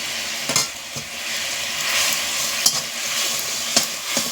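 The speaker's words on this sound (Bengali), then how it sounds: "মশলাটা ফুটে গেছে এবার আমি মাছগুলো দিয়ে দিচ্ছি" Koi fish fry in a bubbling spice masala, a steady moderate sizzle with occasional sharp clicks of utensil on pan spaced through the clip.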